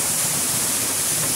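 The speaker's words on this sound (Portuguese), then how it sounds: "a mina de água, que vem por esse cano" Spring water flows through a pipe toward a water wheel, giving a steady, close, hissing rush with no pauses.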